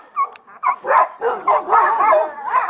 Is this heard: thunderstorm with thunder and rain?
no